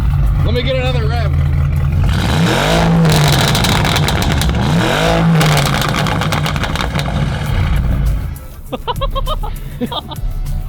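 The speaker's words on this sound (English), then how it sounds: "I clicked it into neutral, try to rev it, like. Woo! Hold on. Let me get another rev." A Bentley's engine is revved in neutral, with loud rising and falling revs close by over a rumbling idle and excited voices talking around it.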